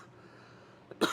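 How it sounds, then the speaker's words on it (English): A man coughs once near the end of an otherwise quiet moment during a live record sale, a short sharp burst after a faint preceding catch, close and brief. "Coughing, choking."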